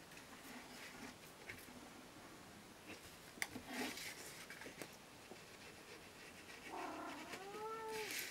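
A cat meows softly near the end with a rising-falling call, heard faintly over quiet rustling and light handling noises.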